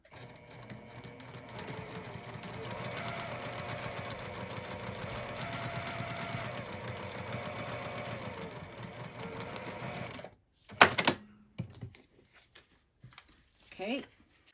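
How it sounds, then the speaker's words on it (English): A sewing machine stitches along a line on a foundation paper pieced block, running steadily for about ten seconds up close, then stops, followed by a few faint handling sounds. "So I'm just going to stitch right on this line between piece 1 and 2."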